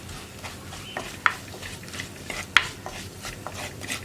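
Kashmiri chili powder is stirred in hot oil in a pan, a steady close scraping and soft sizzle with two sharp metallic clinks of the spoon against the pan.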